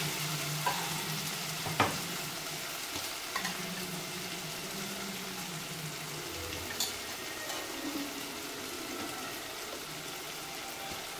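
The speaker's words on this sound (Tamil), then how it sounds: "இப்போ தக்காளியும் நல்லா வதங்கிருச்சு. இப்போ மஞ்சள் தூள் சேர்த்துக்கலாம்." Tomatoes frying in a pan as turmeric powder is added and stirred, giving a steady close sizzle with scattered scraping taps from the spoon and no talking.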